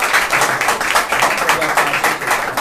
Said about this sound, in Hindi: चलिए जोरदार ताली हो जाए भाई के लिए।